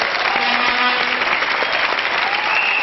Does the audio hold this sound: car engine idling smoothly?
no